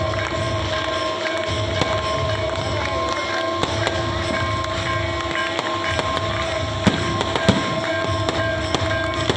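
Firecrackers burst at a Datta Jayanti temple festival at Devgad, a rapid string of sharp cracks and pops over a constant background din, with a few louder bangs near the end.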